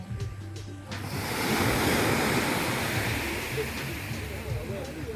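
Surf washes onto the beach at Soufriere, St Lucia, a broad close rush of breaking water swelling after the first second and holding steady, with some wind noise.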